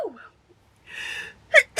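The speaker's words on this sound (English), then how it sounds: "I have to sneeze." One person sneezes indoors: a brief intake of breath, a sharp burst of the sneeze, then a quick gasp right after, alone and fairly quiet.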